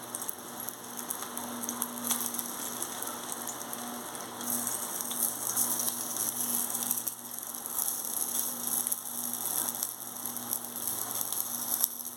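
Fish-oil fritters (bora) made with gram flour and chilli fry in hot oil, a steady, dense crackling sizzle that holds close and even throughout.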